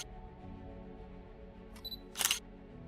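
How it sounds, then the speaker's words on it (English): A KRB metal detector device making its camera-style capture sound, a faint click followed by a short, brighter shutter-like snap, heard over a quiet background hum with no talking. "wait for the device to capture the image with the capture sound"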